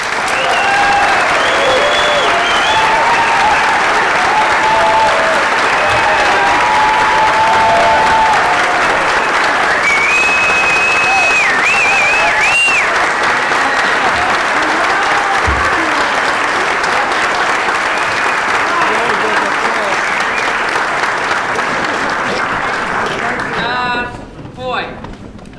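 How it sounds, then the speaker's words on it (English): A political event audience at the Dominion Club applauds loudly and steadily for about 24 seconds, dense clapping with crowd cheers, then the applause cuts off abruptly near the end. "join me in giving her a great big thanks of applause."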